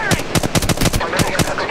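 Rapid automatic gunfire in Apex Legends, a rattling burst of closely spaced shots, loud and sustained, with brief gaps between short strings.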